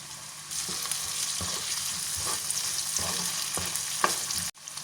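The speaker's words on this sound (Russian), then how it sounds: "Овощи поджарились, добавляю томатную пасту." Vegetables sizzle in a pan as tomato paste is stirred in, a steady broadband frying hiss under repeated soft scrapes of a spoon against the pan, with no talking.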